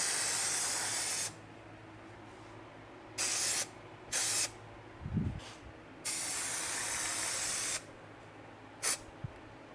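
Adhesive spray for Alcantara on NSX door sills hisses in several bursts, one long blast, then short and medium ones separated by quiet gaps, with a faint knock or two in between.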